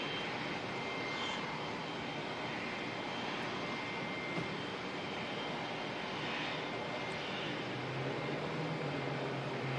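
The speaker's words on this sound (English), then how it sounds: "Jetstar 246 inbound from Christchurch." A Jetstar airliner inbound from Christchurch approaches Auckland Airport, a faint, steady, distant engine drone with a low hum rising toward the end.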